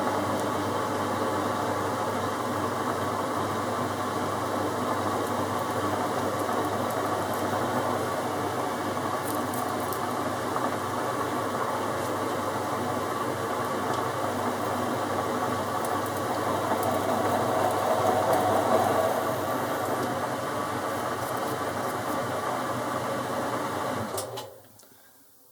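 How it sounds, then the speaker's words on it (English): A centre drill held in a lathe tailstock Jacobs chuck cuts into a workpiece lubricated with car engine oil, giving a steady, continuous machining whir and hum at moderate level for most of the run, then stopping abruptly near the end. "Put the centre drill in the tailstock, the Jacob's chuck, and see how that cuts."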